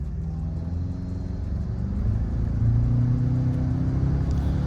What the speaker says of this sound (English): Now let's hit the highway and see how this Trailhunter does